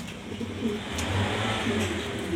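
Grizzle pigeons in a loft coo softly in low, rolling phrases that repeat through the clip, with steady background noise and no talking.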